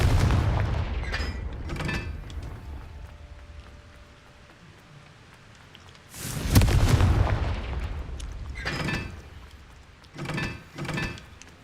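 Confringo fire-blast spells cast in the video game Hogwarts Legacy: several booming bursts go off at irregular intervals, with one large, heavy blast midway and two quicker pops near the end.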